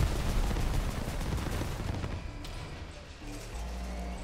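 Revolver gunfire from a first-person shooter game, heard as a dense, loud burst of sharp shots at the start that tapers into rumbling echoes and softer mechanical clatter.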